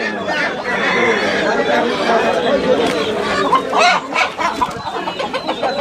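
Chickens and a rooster cluck amid steady, loud crowd chatter at a village poultry market, with people talking close by throughout.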